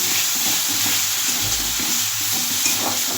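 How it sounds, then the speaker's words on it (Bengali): A loud, steady sizzle of mustard paste frying in a hot pan, with faint scraping of stirring underneath. "সর্ষে বাটাটা আমি এর মধ্যে দিয়ে দিচ্ছি এই সামান্য একটু কষিয়ে নিচ্ছি"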